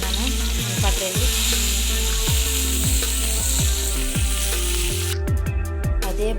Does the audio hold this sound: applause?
no